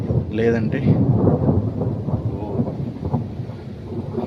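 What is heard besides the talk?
heavy thunder during rainstorm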